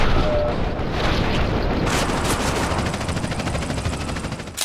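Dense, continuous gunfire with booming explosions in GTA San Andreas, a loud roaring barrage of rapid shots and blasts with no talking.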